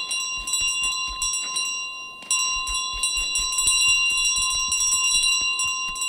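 In Untitled Goose Game, a bell rings out loud and bright with sustained tones, repeated clangs layered over a steady ringing hum.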